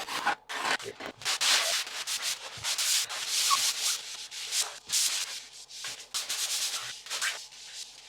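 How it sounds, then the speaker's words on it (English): A hot-mud drywall patch is sanded by hand, steady scratchy rubbing strokes repeating close up in an uneven rhythm with short pauses, fairly loud and alone. "Just sand it until you got a nice feathered edge."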